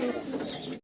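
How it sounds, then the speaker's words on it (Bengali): A single pigeon gives a short, soft coo close by, heard alone and cut off after under a second. "সিঙ্গেল এক পিস কবুতর দেখাচ্ছি"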